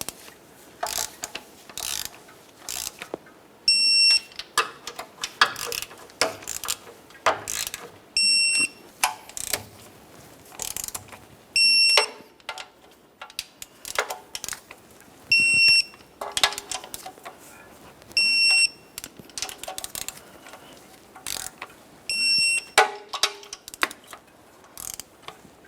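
Torque wrench tightening oil pan bolts on a 1994-2002 Dodge Ram 2500, close ratcheting clicks in repeated bursts with sharp high beeps between them, one bolt after another across the span.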